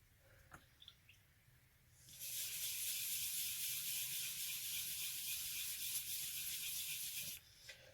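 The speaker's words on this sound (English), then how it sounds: "I'm just going to sand the back to make that level, to get these little hide bits off" Sanding the back of a jesmonite terrazzo piece: after a few light clicks, a loud, steady, close abrasive hiss runs for about five seconds, then stops abruptly.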